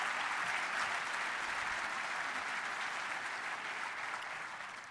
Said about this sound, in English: big round of applause. They deserve it.